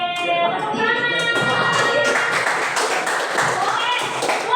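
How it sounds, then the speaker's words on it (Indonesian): Children clap their hands together in a group, giving a dense, steady patter close by while voices and talk carry on over it. "Oke, tepuk tangan."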